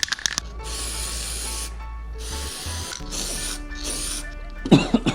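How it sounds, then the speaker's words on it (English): Aerosol can spraying black paint onto motorcycle brackets for a modified KTM Duke 250 frame, several sustained hissing bursts separated by short pauses, close and fairly loud. "So I'm just gonna spray paint it like this."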